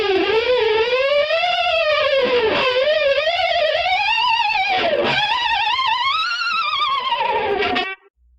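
Electric guitar playing a harmonics lick through effects, the whammy bar bent down and up and wiggled so the high squealing tones wobble and swoop continuously for several seconds before cutting off.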